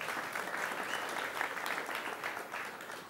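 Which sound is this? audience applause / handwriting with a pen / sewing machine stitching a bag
audience applause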